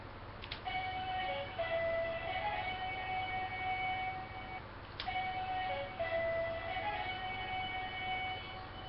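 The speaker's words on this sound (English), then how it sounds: "So you have your Dragon Zord summoning noise." A Legacy Dragon Dagger toy plays the Dragonzord summoning tune, a thin electronic flute-like melody of sustained notes over a faint background hiss, one phrase then a restart after a click, heard alone with no voices.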